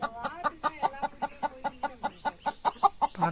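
A brooding hen sitting on eggs clucks in a rapid, steady rhythm, a series of short close calls repeating about five times a second.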